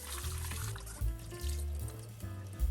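Running water rinses soaked wood ear mushrooms in a kitchen sink, a steady close trickle and pour with brief louder splashes as the mushrooms are moved under the stream.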